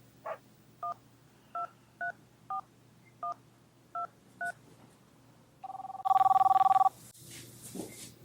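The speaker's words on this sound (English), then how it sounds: "I have to call Mariah" Telephone keypad tones beep in a quick series of about nine short dialing presses, followed by a louder, steady ringback burst on the line and faint background noise after.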